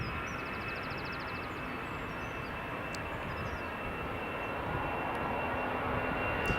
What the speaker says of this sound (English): I've got EasyJet A319 just departing